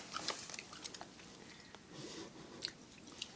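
Several people chewing gum close by, with soft wet smacking and crunchy bites in irregular bursts over a quiet background.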